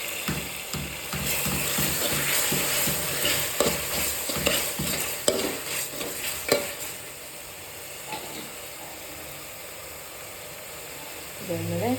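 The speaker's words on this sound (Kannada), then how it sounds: "ಇದಕ್ಕೆ ಈಗ ಅರಿಶಿನ ಪುಡಿ ಹಾಕಿ ಸ್ವಲ್ಪ ತಿರುಗಿಸ್ತೀನಿ" A spatula stirs a sizzling pan of egg gravy base just dusted with turmeric powder, steady frying hiss under repeated scraping strokes, close and loud, easing off toward the end.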